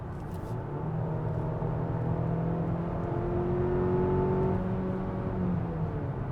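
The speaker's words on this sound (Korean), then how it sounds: "시속 100km 거든요 여기서 추월 가속 성능은 어떤지 한번 잠깐 가속을 해보겠습니다" A Hyundai Palisade 2.5T speeds up from highway speed, heard from inside the cabin as a steady low engine drone whose pitch climbs smoothly over several seconds beneath constant road and wind noise.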